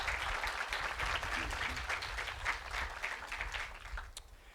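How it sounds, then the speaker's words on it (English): Audience applause for local commissioners at a ribbon-cutting ceremony for a biotechnology and student services center, a crowd clapping steadily for several seconds before tapering off. "A round of applause for our local commissioners."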